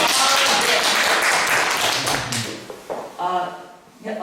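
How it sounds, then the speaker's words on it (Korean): Audience applause after a request for clapping at a speech workshop, dense clapping filling the first half and then thinning out as a voice begins speaking over the fading claps. "박수 보내주시기 바랍니다"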